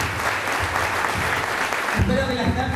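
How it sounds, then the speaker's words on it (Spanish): Strong audience applause at a Spanish-language event for two people, a continuous roar of many hands, with a voice or tonal sounds coming in over it near the end. "les pido un muy fuerte aplauso para Natalia y para Sergio"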